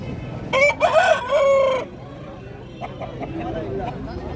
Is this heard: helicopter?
no